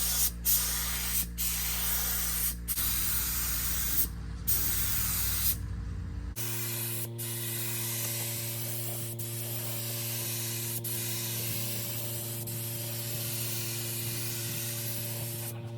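A spray gun laying down the first coat of paint on a 7.3 IDI truck, a steady close hiss broken by short pauses between passes, then running as one long continuous spray.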